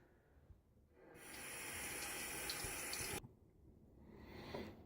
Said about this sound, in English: I'm going to rinse the handle off.